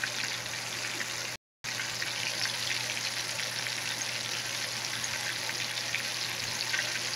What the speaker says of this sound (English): Nothing like some fried catfish